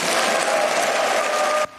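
Members of the European Parliament applaud Ursula von der Leyen after her re-election as European Commission President, a dense, loud wash of clapping from a large chamber that stops abruptly near the end.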